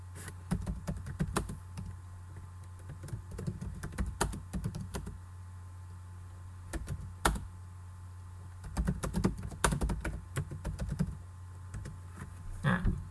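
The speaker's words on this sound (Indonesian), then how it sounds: "ada yang ngetik di papan." Someone types on a computer keyboard during an online English class, producing irregular bursts of quiet, close clicks and taps over a steady low electrical hum.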